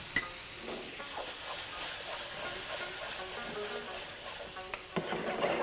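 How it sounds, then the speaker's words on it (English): Yogurt is stirred into gravy in a hot pan, giving a steady faint sizzle and hiss with scattered scraping clicks of a spoon against the metal. "When you put yogurt, you always stir."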